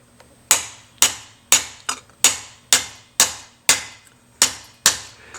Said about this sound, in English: while I'm striking, to set these against the scribed line